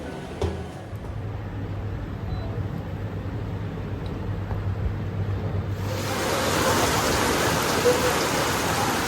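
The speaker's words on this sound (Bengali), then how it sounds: "এই এখন বৃষ্টি আরম্ভ হয়ে গেল, ঝমঝম করে বৃষ্টি পড়ছে।" Heavy rain pours down steadily in the evening, a dense hiss that swells louder about two-thirds of the way through and continues without talk.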